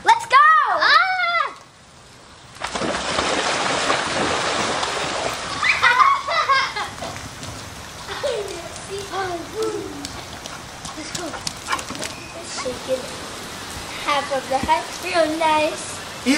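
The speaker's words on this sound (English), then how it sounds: "Let's go in the pool while it's raining." Children splash in an outdoor pool in the rain, with loud, close splashes and water churning. Children talk and shout throughout.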